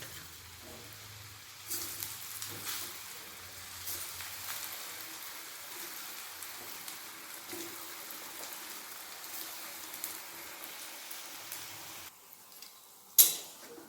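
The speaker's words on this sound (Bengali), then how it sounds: "তেল ভালোভাবে গরম হয়ে গেছে এরপর কপ্তাগুলো ছেড়ে দেবো" Raw banana koftas sizzle softly in hot oil, a faint, steady crackle with a few light clicks and a sharper clatter near the end.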